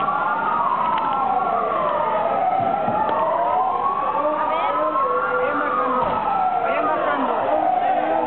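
Ambulance siren wailing in the street, a loud, close rising-and-falling tone cycling continuously over traffic noise, with overlapping siren lines.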